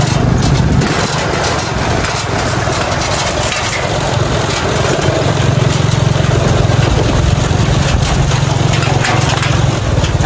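A motorcycle engine idles steadily outdoors in a provincial setting, a constant low rumble with a buzzing higher whine running evenly throughout, fairly loud and close, with no talking.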